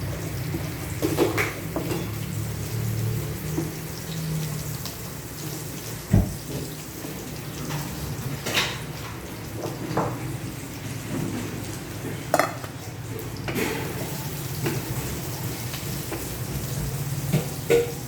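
Chopped onion and garlic sauté in a pan in a home kitchen while pork liempo cooks nearby, a steady soft sizzle broken by occasional clinks and knocks of a utensil against the pan.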